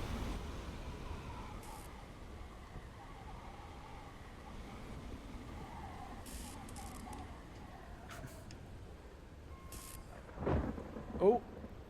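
Thunderstorm in the video game WILL: Follow the Night, a steady rumble of rain and wind with a couple of louder thunder cracks near the end.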